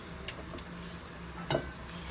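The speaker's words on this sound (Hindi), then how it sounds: "लहसुन डाल के गोश्त को 1 से 2 मिनट में अच्छी तरीके से भूनूंगी" Mutton and garlic fry in a pot with a quiet, steady sizzle, punctuated by a few faint stirring scrapes and one brief louder clatter partway through.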